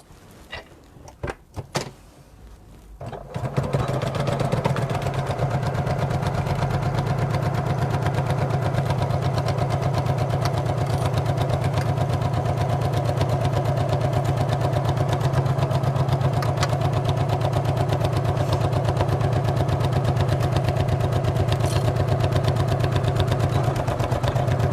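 A home sewing machine stitches the top edge of a Wesley tote bag: a few soft handling knocks, then a steady, unbroken motor whir runs close and moderately loud for about twenty seconds, with no talk.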